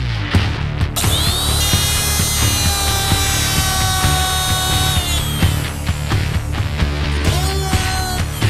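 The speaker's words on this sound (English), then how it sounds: "and I'm going to do that with a router." Router cutting stud clearance into a wooden truck bed for a 1951 Chevy rat truck, a loud steady whine with a ringing tonal hum that holds for several seconds, dips, and resumes, with no talking.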